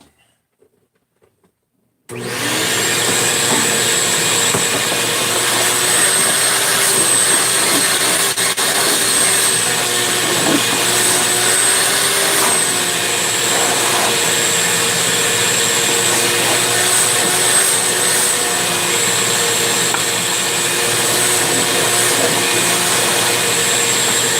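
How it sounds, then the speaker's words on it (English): A vacuum cleaner starts after a brief quiet moment and runs loud and steady, a constant close whine and roar as it cleans off a surface in a workshop. "Let's vacuum this off a little bit."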